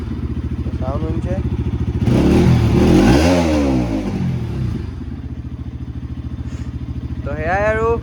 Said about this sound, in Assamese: তো RSৰ এবাৰ মই RPM চাউণ্ডটো শুনাইছোঁ আপোনালোকক